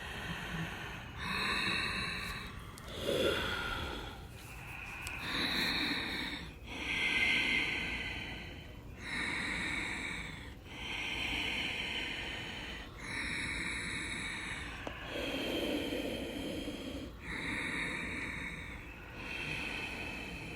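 Deep, audible yogic breaths from an Ashtanga home practice rise and fall in slow, steady cycles, each inhale and exhale a rushing hiss lasting about two seconds, close to the microphone with no talking.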